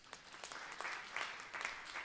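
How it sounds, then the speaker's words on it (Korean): A church congregation at a Friday worship service claps together briefly, a soft, distant patter of many hands with a few louder bursts, no voices over it. "우리 박수 한번 쳐주시기 바랍니다."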